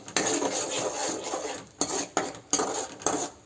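Ground radish halwa stirred in a pan, with scraping, clinking strokes of a spoon against metal that come in a steady, repeated rhythm, close and fairly loud.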